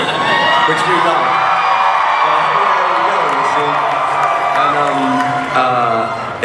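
A large audience at a San Diego Comic Con 2011 Doctor Who panel cheers, whoops and yells in a loud, sustained roar of many voices with no pause.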